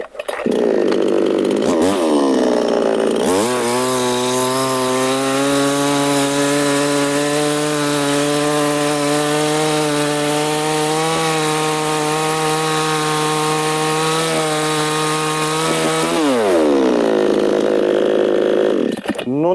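An ABS A-58cc semi-pro petrol chainsaw cutting firewood: a loud engine whine rises sharply, holds a steady high-revving drone through the cut for about thirteen seconds, then drops back to idle, close up.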